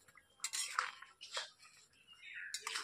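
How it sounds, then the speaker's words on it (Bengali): A metal spatula scrapes and clinks against a pan while stirring a Bengali curry of mete alu (wild yam), in a few irregular bright strokes over a couple of seconds, fairly quiet and close. "এইভাবে মাঝে মধ্যে আমি নেড়েও দিচ্ছি।"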